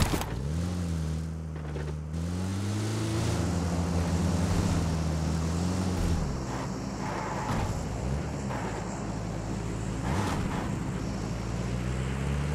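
A motor glider's propeller engine drones in PUBG Mobile, a loud continuous buzz that rises and falls in pitch as it passes close, with rushing wind and game ambience and no talking.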